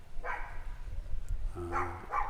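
A small dog gives a few short, high yips and barks, fairly quiet, with brief pauses between them.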